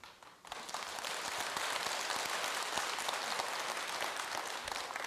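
Audience applause at a Buddhist dharma talk at Jogyesa temple, a dense, steady burst of clapping that starts abruptly and holds at even loudness throughout, with no voices.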